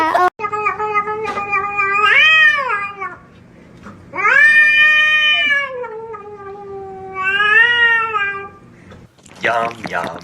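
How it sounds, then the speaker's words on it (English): A cat gives several long, loud, drawn-out meows with a wavering, wailing tone, close up, separated by short pauses, with a brief burst of other noise at the end. "Oh, what a friendly cat."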